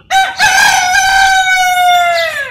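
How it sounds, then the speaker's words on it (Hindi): A black Australorp hen lets out one loud, drawn-out call close by, lasting about two seconds and trailing off at the end. "आज इस वीडियो में मैं आपको अपनी आस्ट्राला मुर्गी दिखाऊंगा, जो मेरी लाडली मुर्गी है जी।"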